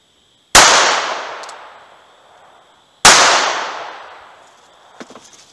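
An NAA Mini revolver fires 40 grain .22 Long Rifle Velocitor rounds at water jugs and wood, giving two sharp, loud, close shots a few seconds apart. Each shot rings out in a long decaying tail, and a few faint clicks follow.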